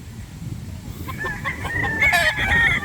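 Boston stag roosters crow nearby, one clear cock-a-doodle-doo rising over faint background clucking and farmyard noise.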